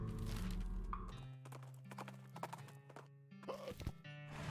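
Horse hooves clip-clop in uneven bursts of hollow knocks over a low musical drone in the video game West of Loathing, with a brief whinny-like sound partway through.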